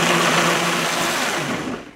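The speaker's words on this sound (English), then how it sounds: "I have the wet ingredients in my blend tech, and I'm just going to use the manual controls down here and start it low to mix it" A Blendtec blender on a low manual setting whirs steadily as it mixes wet ingredients for a vegan pumpkin pie, a loud, continuous motor whine that fades out at the end.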